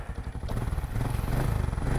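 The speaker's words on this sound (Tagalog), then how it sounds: "Testing natin yung XRM na ginawa natin. 2012 model." A 2012 Honda XRM motorcycle that has just been repaired idles on test, its close single-cylinder engine putting out a fast, even put-put that picks up slightly partway through.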